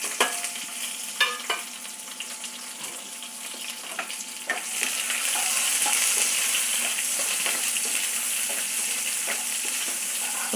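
Onions and curry leaves fry in a pan, a steady close sizzle with scattered stirring clicks, growing louder and denser after a few seconds, with no talking.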